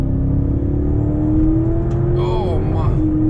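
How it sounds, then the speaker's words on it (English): A 1012 hp Audi RS6 Klasen tuned car pulling hard in third gear, its engine a loud, close drone climbing steadily in pitch, with a brief voice near the end. "third gear pull"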